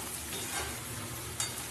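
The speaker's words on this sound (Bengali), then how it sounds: "পেঁয়াজ আর ক্যাপসিকামটা ভালো করে একটু ভাজা ভাজা হয়ে নিই।" Onion and capsicum fry in a pan for aloo dum, a steady close sizzle with a few soft stirring scrapes, no voices.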